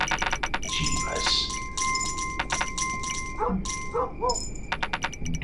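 A dog in the video game Kingdom: New Lands gives several short barks amid chiming, glassy game sounds and background music, fairly quiet and spaced out over a few seconds.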